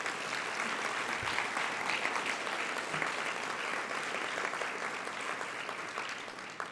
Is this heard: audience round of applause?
yes